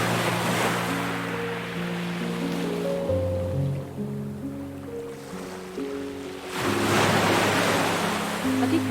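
Sea waves washing onto a shore, a steady broad surf rush that swells loudest at the start and end, with soft sustained musical tones playing beneath it.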